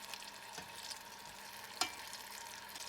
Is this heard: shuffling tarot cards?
no